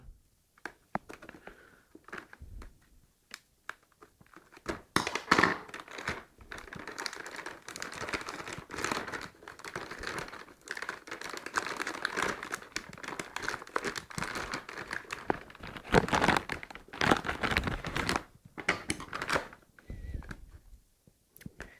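Packing tape crinkles and tears as it is peeled from the packaging of a brand-new Sony PSOne SCPH-102 PAL console: close, irregular crackling and rustling bursts with brief pauses.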